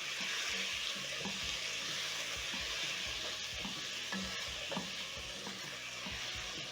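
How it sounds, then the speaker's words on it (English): Tomatoes are stirred into a pan of frying onions, garlic, ginger and carrots, giving a continuous soft sizzle broken by repeated scraping stir strokes, with no talking. "Add in your tomatoes and stir in."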